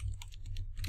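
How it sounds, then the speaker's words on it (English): Quick keystrokes on a computer keyboard, about five close, even taps in under a second over a steady low hum, with no talking. "we're going to type in"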